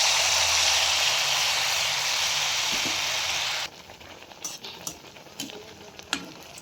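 Oil pitha, Bengali rice cakes, frying in hot oil: a steady, loud bubbling sizzle for several seconds, then a sudden drop to a quieter hiss broken by a few soft clinks and taps.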